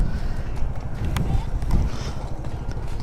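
Horse hooves clip-clop steadily on a UK road, recorded from a motorcycle, partly masked by rumbling wind noise against the microphone.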